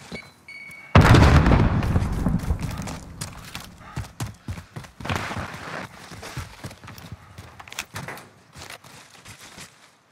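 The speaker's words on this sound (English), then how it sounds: "Grenade going out" Grenade explosion in Call of Duty Resurgence on Caldera, played on Xbox Series X: one loud, close blast about a second in, with a rumbling decay, followed by scattered lighter thuds and steps.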